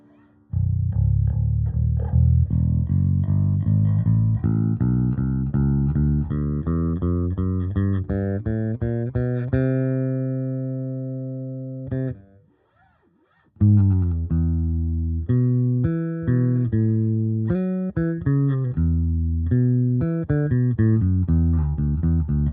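A clean electric bass plays a melodic line of plucked notes through a Bergantino Forté amplifier recorded by microphone, with one long sustained note and a brief pause before the playing resumes.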